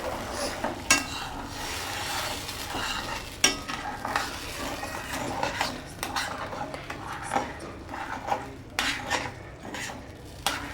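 Sugar cooks in ghee that was used to fry cashews, raisins and almonds for a sugar syrup for double ka meetha, with a soft sizzle under repeated metal spoon scrapes and clinks against the pan.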